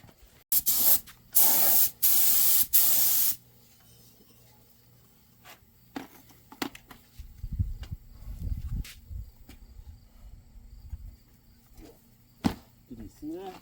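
Short bursts of aerosol coating hiss loudly at close range several times during work on a 2003 Chevy Silverado crossmember, followed by quieter clunks, rustling and people talking.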